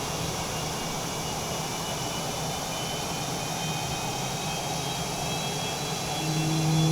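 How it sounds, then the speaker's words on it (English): A simulated F/A-18 Super Hornet jet engine runs steadily at idle after a cold start in MS Flight Simulator 2020, heard from outside the aircraft as a constant roar with a high whine, swelling slightly toward the end. "That's a very realistic sound apparently for the Hornet."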